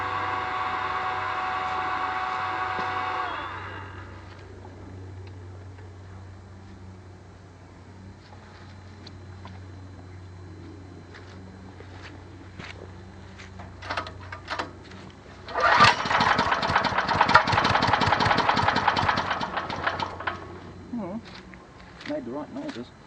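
A small wood-gas-fuelled engine is pull-started: a steady low drone first, then a quiet stretch, then a loud burst of rapid mechanical chugging near the end, with some talk in the background.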